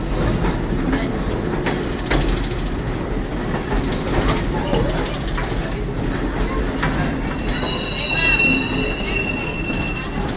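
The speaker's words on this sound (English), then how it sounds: "we're entering the Smith Creek train depot on the north side of Greenfield Village" A heritage passenger train rolls into the Smith Creek depot at Greenfield Village, with steady rumbling wheels, rhythmic clickety-clack and high squealing wheel flanges, close and continuous.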